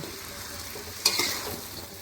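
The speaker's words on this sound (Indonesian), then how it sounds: "Aduk-aduk kembali hingga airnya nanti sedikit berkurang ya." A spoon scrapes through fried tempeh simmering in a pan over a continuous soft sizzle, with one sharper scrape standing out at close range.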